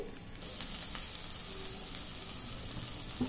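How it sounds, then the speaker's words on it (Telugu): Onions and broad beans fry in a pan with a steady, soft sizzle that continues evenly throughout, fairly quiet with no talking. "మనకు ఉల్లిపాయలు అన్నీ వేగిపోయినాయండి. దాంట్లో పాటు మనకి ఇది కూడా వేగుతుంది"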